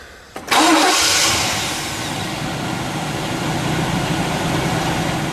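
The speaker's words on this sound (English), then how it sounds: "Now let's see if that starter works." A car engine cranks briefly after a starter replacement, then catches and starts, settling into a loud, steady close idle with no talking.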